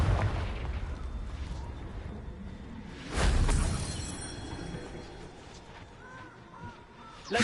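In Hogwarts Legacy a Confringo spell bursts with a booming, fiery blast during target practice, one strong explosion in the middle over a rumbling game background, with lighter impact pops and crackles around it.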